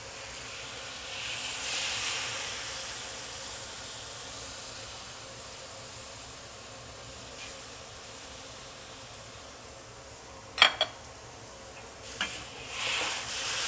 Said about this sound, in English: now I'm gonna add the sauce